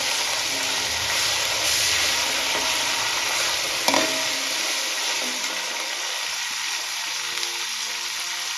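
Curry leaves stirred into frying Maharashtrian masale bhat (masala rice), a steady close sizzle with spatula scrapes, a brief clatter near the middle, then quieter stirring with rhythmic ticks.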